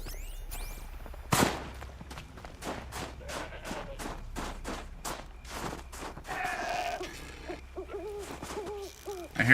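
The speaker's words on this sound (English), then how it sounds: "I hear an owl." An owl hoots in the video game Horizon Zero Dawn: The Frozen Wilds, a soft wavering call heard late in the passage after a long run of regular footsteps and thuds, moderately faint within the game ambience.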